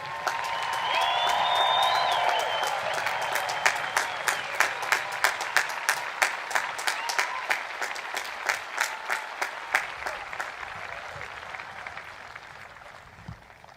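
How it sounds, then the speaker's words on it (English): Audience applause for graduates at a college graduation ceremony, a sustained crowd of clapping that gradually thins into scattered individual claps before fading out. "One more round of applause for our graduates"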